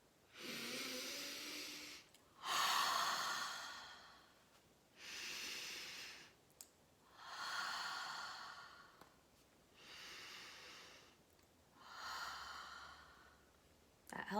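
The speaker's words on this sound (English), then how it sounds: "Could she take some deep breaths?" Slow, deep breaths come one after another, six long airy inhales and exhales with short pauses between, soft and close with no talking.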